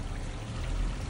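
Floodwater after Hurricane Milton surges up out of a street drain and overflows, a steady, fairly loud rushing pour with low churning rumble that holds constant, no voices.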